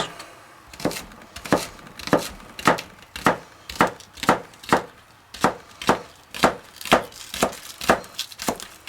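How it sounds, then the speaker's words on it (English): Two green onions are chopped on a board with a knife: about sixteen crisp, evenly spaced strikes at a steady rhythm, close and clear with no talking. "We're going to chop up 2 green onions"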